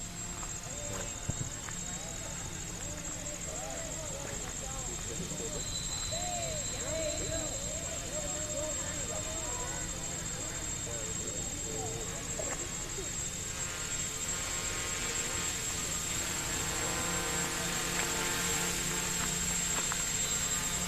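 Quadcopter motors on a Pixhawk-controlled drone hold steady with the throttle centered, a constant high whine and broadband hum running throughout, with a voice briefly audible early on.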